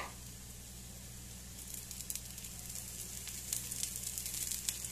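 Adai dosa, a multi-dal dosa, sizzles in oil on a pan over medium heat, a steady close crackle and hiss with brighter pops building toward the end.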